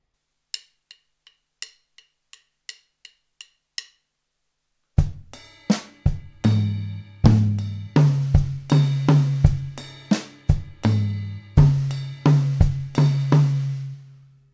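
Full triplet drum groove on a kit with no metronome, steady rolling tom and snare strokes with ringing resonance, loud and close, after a short run of light count-in ticks.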